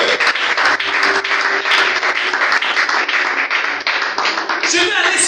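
A church congregation bursts into sustained, loud applause, dense clapping filling the room while a preacher's voice carries over it.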